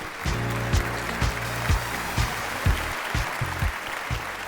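Audience claps for legendary lyricists at the Pakistan Idol gala round, a dense, steady wash of applause heard at moderate distance with a few louder, sharper claps standing out near the front.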